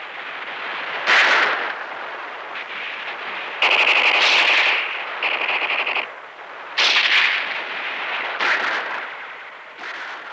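Rifle and machine gun fire from archival WWII Battle of the Bulge footage, sustained rapid bursts of automatic gunfire with a few sharper shots, harsh and loud with a thin, band-limited old-film quality, no talking.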